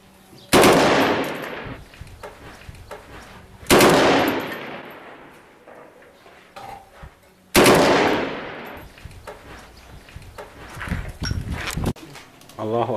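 A fighter fires three separate bursts of gunfire in an urban battle in Daraya, near Damascus, each a sharp, loud crack with a long echoing decay, spaced a few seconds apart. Someone talks between the shots.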